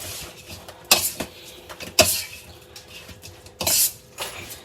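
Spoon clatters against a pan or bowl as honey chilli potatoes are tossed with toasted sesame seeds, giving a few sharp close knocks among softer scraping stirs, with no voices.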